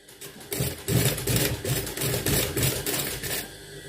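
A sewing machine stitching a shirt pocket, running close and loud in a steady mechanical whir with a rapid rhythmic needle clatter, starting after a brief pause and continuing to the end without talk.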